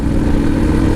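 A Harley-Davidson Pan America motorcycle with a Street Sweeper exhaust rumbles steadily with a deep, throaty roar, close by and constant.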